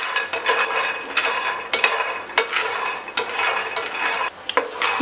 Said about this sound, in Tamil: இப்போ ஒரு பேனில் வந்து இந்த ஹேசல் நட்டை நம்ம வந்து ரோஸ்ட் பண்ணிக்கலாம்.